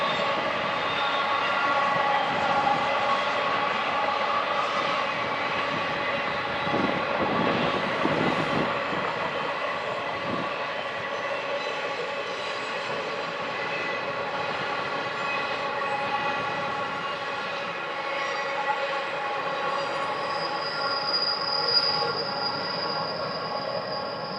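A long freight train of empty cars rolls steadily past, with a continuous rumble and a persistent high metallic wheel squeal that rises near the end. No voices are heard.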